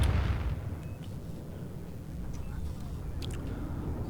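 Cluster bombs and anti-tank missile fire slam into M1 Abrams tanks in the Warno wargame, a loud burst of explosions at the start giving way to a dense rumbling barrage of distant detonations and crackling impacts.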